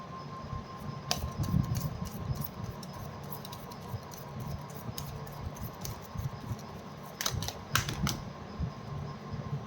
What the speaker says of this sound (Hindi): this is my one and last shuffle